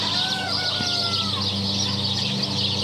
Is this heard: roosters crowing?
yes